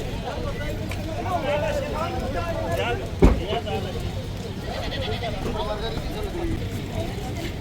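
Goats bleating at a livestock market for Eid sacrifice animals while being loaded into a pickup truck, wavering bleats repeating over crowd talk and a low engine rumble, with one sharp thump midway.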